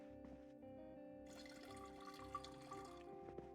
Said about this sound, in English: Fill up on water real quick.